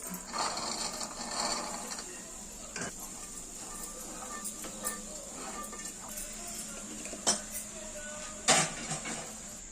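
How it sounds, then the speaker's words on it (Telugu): Boiled chickpeas are stirred in a pan after salt is added: soft, repeated scraping and clicking of a spoon against the pan, quiet and irregular, with a couple of sharper knocks near the end. "సాల్ట్ వేసుకున్న తర్వాత ఉడకబెట్టిన శనగలను వేసి కలుపుకోవాలి"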